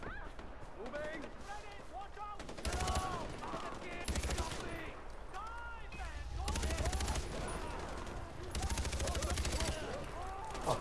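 Far Cry 4 video game gunfire, sustained bursts of rapid automatic shots over a busy background, with a person talking over the shooting.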